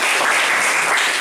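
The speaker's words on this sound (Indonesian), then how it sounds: "Tepuk tangan untuk kelompok 1." Classroom applause for a student group during a teaching session, a short burst of dense clapping, loud and close, lasting about a second.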